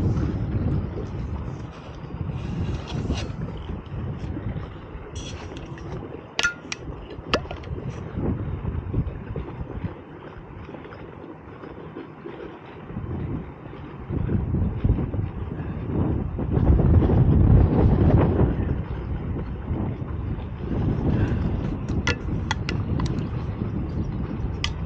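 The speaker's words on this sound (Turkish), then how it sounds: "Tatlı tatlı esiyor." Wind blows across an outdoor microphone during a drive to İçmeler, a rough, gusting rumble that swells and fades, heaviest in the middle stretch, with engine or vehicle noise underneath.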